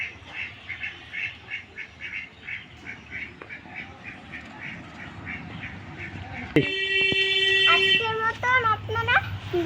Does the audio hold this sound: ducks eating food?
yes